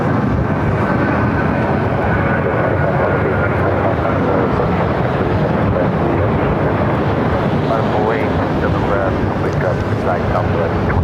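A jet airliner taking off at Phoenix airport produces a loud, continuous broadband roar with wind buffeting, steady throughout with no clear pauses.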